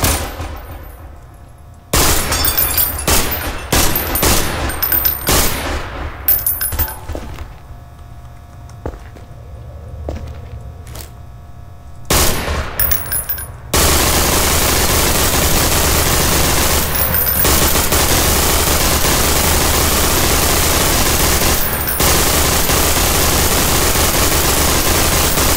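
Machine gun fire in the video game Garry's Mod, sharp rapid bursts of gunshots in clusters, followed by a long stretch of dense continuous static-like firing noise, loud and close.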